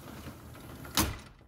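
A Brisa white retractable screen door slides shut along its exterior frame with a brief rushing swish ending in a soft thud, close and moderately loud over faint room noise.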